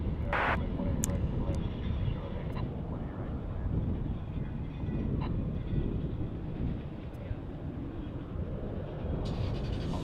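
A jet airplane lands on a DFW International Airport runway about a quarter mile away, a low, continuous engine rumble and roar that stays fairly faint and steady throughout.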